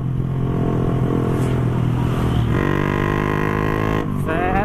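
A motorcycle fitted with a loud aftermarket exhaust idles and revs with a rough, loud exhaust note, holding steady and then climbing in pitch, close by.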